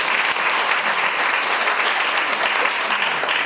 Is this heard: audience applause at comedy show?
yes